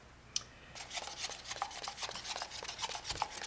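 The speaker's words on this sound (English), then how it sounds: "We're pretty religious about stirring the epoxy, thoroughly mixing" Stirring freshly mixed epoxy in a cup before filleting, a quiet steady run of rhythmic scraping and rubbing strokes, close up and without talk.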